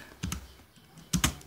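Typing on a computer keyboard in Microsoft Word, heard as two short bursts of key clicks separated by a quiet pause, close and clear.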